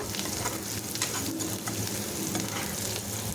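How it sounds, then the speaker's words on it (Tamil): Beetroot and chana dal sauté in a pan for a beetroot poriyal, giving a steady close sizzle with continuous stirring and scraping throughout, and no voices. "நல்லா ஓரளவு வதங்கி வந்துடணும்"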